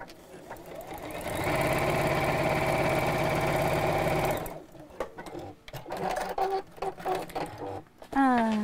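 A sewing machine stitches a rope handle bag in black thread, a fast, even mechanical buzz running for about three seconds before it stops, followed by quieter handling clicks and a few brief rattles.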